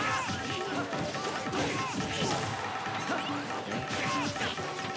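Super Smash Bros. match action with repeated smash hits and thwacks landing over busy game noise, a dense run of impacts and whooshes at steady loudness, with commentary voices faintly underneath.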